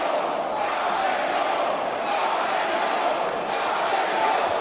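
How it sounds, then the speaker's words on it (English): A packed crowd at a GCW wrestling event, Spring Break 4, roars steadily as a dense, continuous cheer with swelling peaks, loud and unbroken throughout. "Listen to this crowd."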